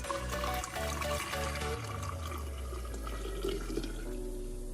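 Hot tap water poured into a vessel while making kombucha, a continuous splashing trickle with rising resonant tone as it fills, steady and close.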